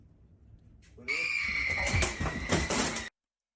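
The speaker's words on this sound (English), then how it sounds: "This guy pulled that door with the strength of God, bro." A cabinet door is yanked forcefully open and off its fittings in a kitchen prank, a sharp loud wooden crack and rattle followed by about two seconds of clattering and scraping, with no voices.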